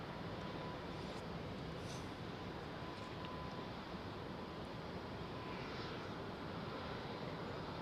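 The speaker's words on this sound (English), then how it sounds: "Tokyo bound Japan Airlines 787-800." Steady broadband roar of a Japan Airlines Boeing 787-8 heading for Tokyo as it climbs out overhead from runway 09R at London Heathrow, loud and sustained with no voices.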